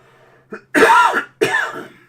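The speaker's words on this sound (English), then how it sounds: "there's just that little niggling cough" A small cough followed by two harsh, throaty coughs, close and loud, with short pauses between them.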